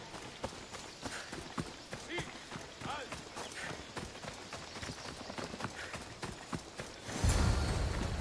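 Rapid hoofbeats of galloping horses racing in the video game Assassin's Creed Odyssey pound steadily in a dense rhythm, loud and continuous, with a heavier rumble near the end.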